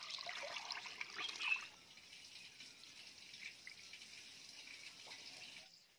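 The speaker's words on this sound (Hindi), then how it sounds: "अब इनकी धुलाई हो रही है यहाँ पर।" Split black gram lentils being washed in water produce a faint splashing and trickling, like running water in a sink. It is busier at first, then settles into a quieter, continuous dribble.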